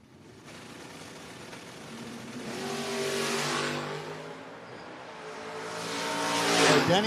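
Drag race cars, a Firebird and a Camaro, rev at the starting line, engines rising and falling in pitch with a swelling roar that grows louder near the end.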